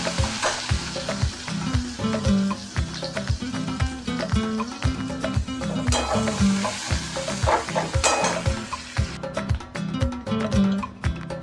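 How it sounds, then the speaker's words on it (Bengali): Onions sizzle loudly in a pan as a spatula scrapes and stirs in a steady, repeated rhythm, close up and continuous. "পেঁয়াজটাকে একটু ভেজে নেবো ভালো করে"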